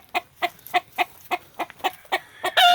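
A string of about nine evenly spaced clucks from a nearby chicken, loud and steady, ending in a sharper, louder squawk.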